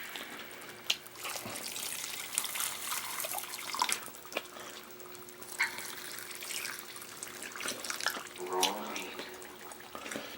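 Water poured over concrete in a plant pot, a soft splashing trickle with gurgles and drips, fairly quiet, under faint background speech.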